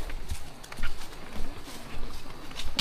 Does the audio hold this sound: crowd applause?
no